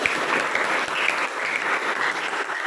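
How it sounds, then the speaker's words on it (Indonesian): A classroom group gives steady, dense applause after a student presentation, many hands clapping at close range for a few seconds without any talking. "Beri tepuk tangan untuk kita semua."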